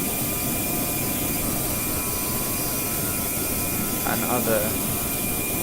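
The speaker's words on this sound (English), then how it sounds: "I must say GeoFS did a good job with modelling their aircraft and having like 3D rotating fan blades." Steady whine and roar of A320neo Pratt & Whitney jet engines in the GeoFS flight simulator game, a constant loud drone filling the whole clip, with brief talk near the end.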